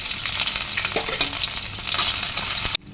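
Ginger, green chillies and flattened rice (chire) fry in a pan with cumin and fennel, giving a loud, steady crackling sizzle with stirring scrapes that cuts off abruptly near the end.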